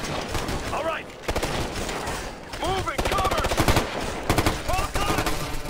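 Gunfire in the tactical shooter Ghost Recon Future Soldier, loud bursts of rapid automatic fire and single shots in a busy combat mix, with game voices and effects underneath.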